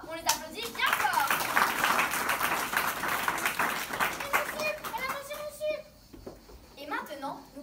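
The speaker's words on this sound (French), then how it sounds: "On les applaudit bien fort!" Audience applause at a primary-school year-end show, with dense clapping and children's cheering and voices filling most of the stretch, then thinning near the end as the clapping tapers off.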